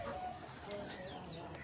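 A rooster clucks and calls amid a noisy farmyard background, fairly close, with faint voices and other fowl sounds mixed in.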